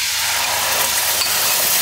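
Chopped ginger and garlic fry in butter in a pan, a steady close sizzle with bright crackling hiss that holds evenly throughout.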